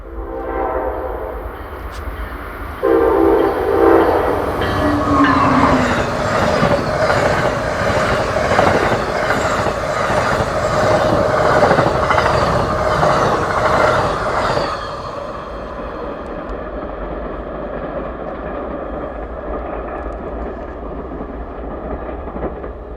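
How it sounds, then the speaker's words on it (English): An Amtrak Northeast Regional 140 passenger train rushes past on a frosty day, its ice-frozen horn blaring a long, loud, strained blast over the steady roar and rumble of the cars, which keeps going after the horn stops. "Also running 10 minutes behind schedule is Northeast Regional 140, giving us a frozen horn salute."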